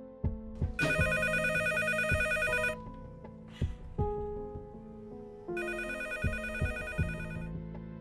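An old-style telephone bell rings loudly in two long bursts separated by a pause, set against a low film score in a tense dramatic scene.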